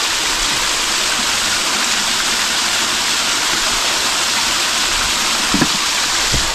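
Mountain-fed water runs continuously in a loud, even rush, close by, with a small bump near the end and no speech heard over it.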